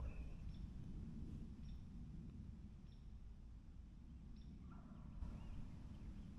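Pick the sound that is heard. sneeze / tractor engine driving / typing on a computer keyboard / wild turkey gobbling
wild turkey gobbling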